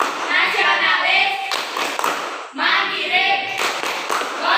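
A classroom group does the Tepuk PPK chant, voices calling out words in rhythm with their clapping, the claps and chanting arriving in two close, loud bursts.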